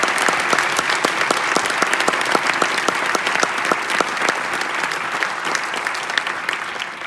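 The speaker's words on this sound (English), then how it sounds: "Let's welcome them with applause tonight." Steady, loud applause from a forum audience welcoming political candidates onstage at a university event, with dense overlapping clapping and a few distinct near claps throughout, no talk.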